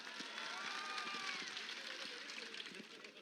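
Crowd applause and cheering at a Vanchit Bahujan Aghadi Jan Aakrosh Morcha protest rally in Ulhasnagar, greeting Taiyab Bhai Zafar: a faint, distant, continuous wash of clapping for about three seconds with scattered voices in the crowd.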